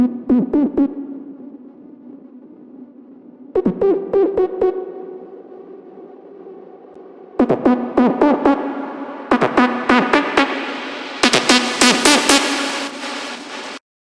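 A bright synth main lead enters over an electronic build-up with risers, playing clustered stabbed phrases in four bursts that grow denser and brighter toward the end, with a steady sustained pad underneath.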